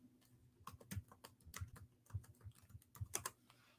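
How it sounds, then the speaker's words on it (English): Quiet, close typing on a computer keyboard: a steady, uneven run of light clicking keystrokes with no talking. "now I'm gonna type in a radar screen"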